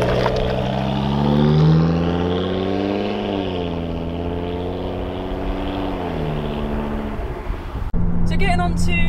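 A 5-cylinder 2.5-litre turbo car engine drives with its exhaust droning close and loud, the note rising and falling smoothly as it revs, ending with a sudden cut to a brief different sound.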